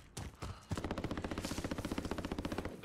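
Video game gunfire rings out as rapid automatic bursts, a fast even stream of shots after a few single cracks, moderately loud with no talk over it.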